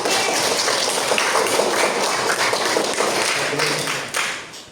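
Students in a classroom clap their hands together, a dense, close, sustained patter of many claps at even loudness that fades slightly near the end.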